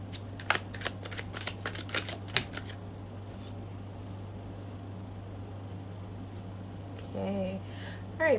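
Tarot cards are shuffled close by in a quick flurry of crisp riffling snaps over a steady low hum, then quiet handling follows and a voice starts speaking near the end.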